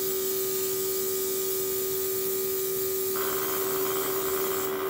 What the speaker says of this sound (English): so it fell off of my sink there and started rattling.